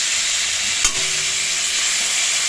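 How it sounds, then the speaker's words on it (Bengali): Hilsa fish frying lightly in hot oil, a loud, dense, unbroken sizzle with one brief knock near the middle; nobody speaks. "এই ইলিশ মাছ তো খুব বেশি ভাজবো না, হালকা একটু ভাজবো"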